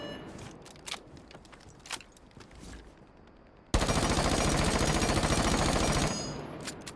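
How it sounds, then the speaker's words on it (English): MP5 with a flash hider firing in Rainbow Six Siege, a loud continuous burst of rapid automatic shots lasting a couple of seconds, preceded by scattered clicks and shots and followed by a fading tail. "let me try flash hider out for the MP5 real quick for you guys."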